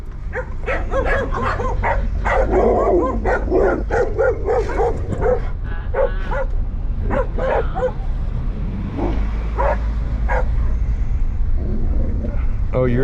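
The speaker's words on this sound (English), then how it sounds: "That's a doggy." A dog gives a run of sharp, close barks and yips at night, with a low engine hum underneath and people talking in between.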